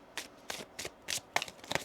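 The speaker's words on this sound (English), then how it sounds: "One more shuffle." A deck of tarot cards being shuffled by hand during a reading, with five or six quick riffling bursts in an uneven rhythm, close and fairly soft, and no talking.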